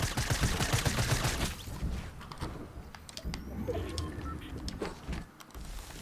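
Lever-action sniper rifle shots in Fortnite ring out as sharp gunfire bursts, loudest and densest in the first two seconds and then more scattered, with several short cracks and trailing game noise.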